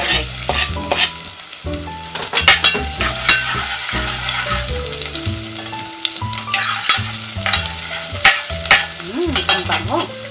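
Garlic sizzles loudly in hot oil in a pan, a close, continuous crackling hiss with occasional stirring scrapes, under background music and without speech.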